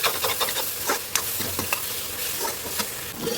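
Ginger garlic paste with turmeric frying in a pan, a steady close sizzle broken by a few scraping stirs, no voices.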